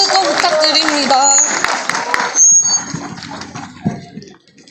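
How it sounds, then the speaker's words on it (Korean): A crowd at a student-labor solidarity rally at Seoul National University claps in a brief burst of applause under a speaking voice, then fades to scattered claps and quieter background. "박수 또 부탁드립니다."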